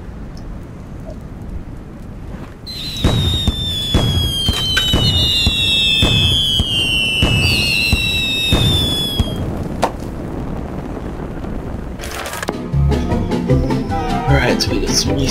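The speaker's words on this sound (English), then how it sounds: "And now we need an explosion." Explosions in the video game Little Inferno: rising whistles streak over a dense burst of crackling bangs that rattle on for several seconds, then a second loud flurry of pops and crackles near the end.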